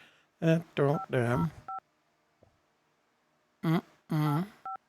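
Two short touch-tone keypad beeps of a telephone being dialed, one after a pause, each clipped and clear between stretches of nearby talking.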